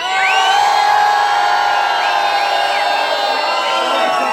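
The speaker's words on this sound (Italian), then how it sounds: "Un urlo viva Fest!" A concert crowd at a reggae show shouts and cheers together on cue, a loud sustained roar of many voices with whoops rising through it.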